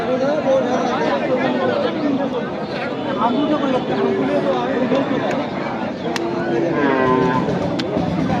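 Small cattle for Qurbani low repeatedly amid a noisy crowd at Mirganj livestock market, moos rising over constant chatter and overlapping voices nearby.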